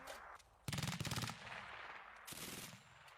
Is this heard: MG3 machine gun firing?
yes